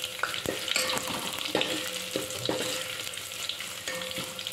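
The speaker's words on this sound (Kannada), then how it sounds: "ಸ್ವಲ್ಪ ಫ್ರೈ ಆಗಬೇಕು." Spices sizzle and crackle steadily in a hot pan for a horse gram bassaru, with a few scrapes and stirs of a utensil mixed in. The sound is close and moderately quiet, and no one speaks.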